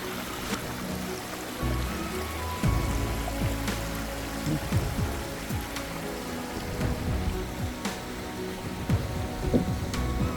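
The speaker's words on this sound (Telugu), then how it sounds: "ఆ మెయిన్ వాటర్ ట్యాంక్ నుంచి అయితే అన్ని వాటర్ అయితే ఫ్లో అవుతూనే ఉన్నాయి" Water pours steadily from the main tank at Harishchandragad fort like a running stream, a continuous rushing wash heard nearby without talk.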